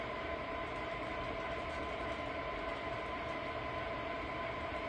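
An MTH Premier model steam engine train running on its track, a steady loud mechanical whir and rumble with faint rhythmic clicking that holds evenly throughout, no voices.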